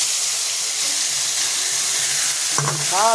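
Ginger, garlic, onion, green chilli, chilli powder, salt and turmeric hitting hot oil together, a loud steady sizzling hiss, close up, with a brief clatter of stirring near the end.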